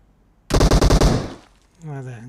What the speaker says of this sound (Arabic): صوت رمي أمامي الآن